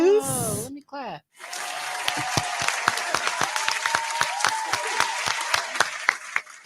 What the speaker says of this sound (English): Oh, let me clap.